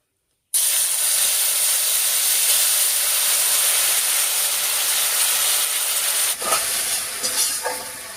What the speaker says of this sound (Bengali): এবার এর মধ্যে দিয়ে দিচ্ছি বেটে রাখা মশলাটা।